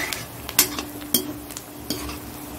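A metal spatula stirs and scrapes a pan of frying food for egg chowmein, giving several sharp clinks over a low, faint sizzle.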